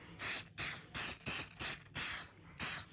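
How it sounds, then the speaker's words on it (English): Repeated short bursts of Apple Brand Guard protector spray onto a Louis Vuitton Croisette bag, about seven hissing pumps in a steady rhythm, close and fairly soft, with no talking. "Let me spray that side for you guys to see."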